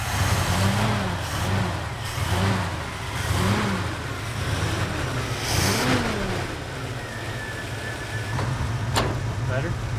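An old 1975 K10 pickup truck engine cranks, catches and revs in repeated rising surges, loud and close, with people talking faintly over the rumble.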